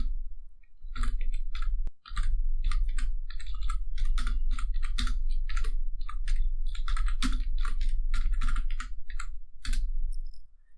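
Typing a C program on a computer keyboard: rapid, steady keystroke clicks close by, clustered in bursts with one brief pause, running continuously without any talk.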